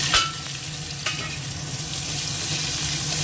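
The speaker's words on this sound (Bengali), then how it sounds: "পেঁয়াজটা এবার দিয়ে দেবো তেল গরম হয়ে গেছে" Onions dropped into hot oil and frying for a Bengali lunch, a steady close sizzle with a sharp burst at the start and another crackle about a second later, no voices.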